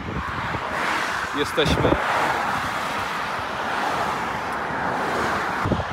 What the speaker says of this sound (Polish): Samochody jeżdżą głośno, ale całkiem ładnie.